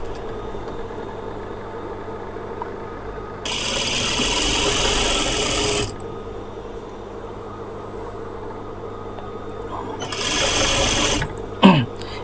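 Sewing machine stitching the side slit of a kameez, two steady bursts of close motor whir with a short pause between, against a low room hum.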